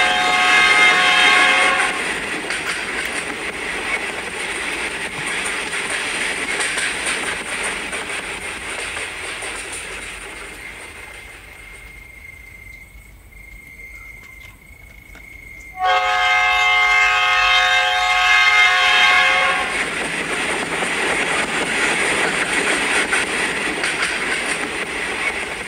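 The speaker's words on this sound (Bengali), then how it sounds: "রাত 8টার ট্রেন ধরে করিমপুর রওনা হলাম।" A night train heading to Karimpur rumbles steadily along the rails, its horn blaring at the start and again in a loud, sustained blast later, with wheel clatter throughout and no voices.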